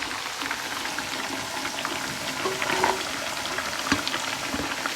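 Tomato paste and onion sizzling in a pan alongside crayfish, a soft, continuous crackle and hiss with scattered pops, moderately close and steady throughout, with no talk over it.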